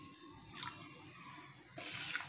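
Water is poured onto washed rice for veg biryani in two short splashing bursts, faint and nearby, with a quiet pause between them.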